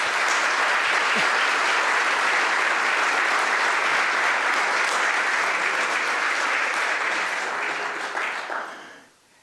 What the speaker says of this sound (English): can we have one more round of applause for all these teams?